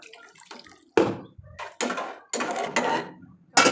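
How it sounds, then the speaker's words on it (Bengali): Water poured from a container into a cooking pan in several short splashing bursts, close and fairly loud, separated by brief pauses. "আর একটু জল দিব"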